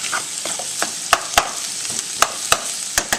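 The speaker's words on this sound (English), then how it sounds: "And then stir it all up." Jalapenos, carrots and onions stirred in a hot pan: steady close sizzling under a series of sharp scraping clicks from the utensil at uneven intervals, no voices.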